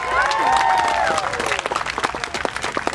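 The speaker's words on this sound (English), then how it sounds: "then you indicate by your applause who is your favourite" Audience at a Samoan Idol singing contest in a Pasifika festival village applauds for a favourite singer, dense clapping with cheers and a whistle-like tone early on, loud and sustained under a lively crowd.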